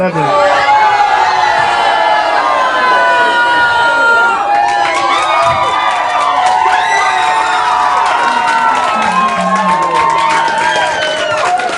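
A large audience at a high school poetry slam cheers, whoops and shouts continuously and loudly, a dense crowd roar with scattered individual yells throughout.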